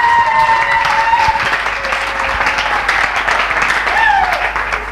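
A church congregation applauds steadily throughout, a dense wash of clapping with crowd voices and whistles mixed in, loud and sustained.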